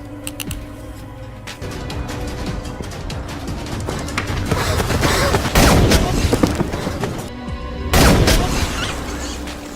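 Gunfire and explosive booms in a war film as fleeing hostages are shot, bursts swelling into loud blasts over a steady backdrop of battle noise.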